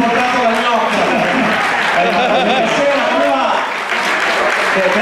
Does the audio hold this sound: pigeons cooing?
no